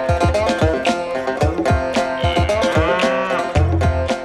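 Cows on a farm moo loudly and close by, with several deep, drawn-out calls overlapping one another in a continuous chorus.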